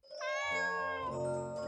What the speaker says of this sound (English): Oh, look! It's a kitty!